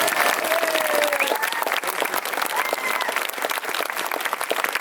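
An audience at a cycling team presentation in a park breaks into dense, lively applause, close and sustained with a few cheers and whistles mixed in throughout.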